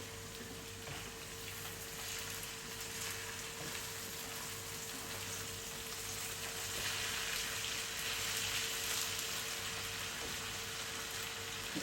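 Potatoes fry in a pan for a Bengali potato bhaji, giving a steady, even sizzle and hiss that runs unbroken at moderate loudness with a faint electrical hum beneath.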